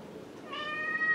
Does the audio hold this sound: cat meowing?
yes